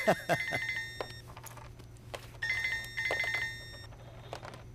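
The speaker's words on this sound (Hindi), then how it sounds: "किसका फोन है?" A phone rings indoors in repeated electronic bursts of bright tonal trills, separated by short gaps, with faint voices and background sound underneath.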